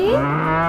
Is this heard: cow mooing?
yes